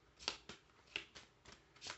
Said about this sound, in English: I'm shuffling up my Lenormand's deck here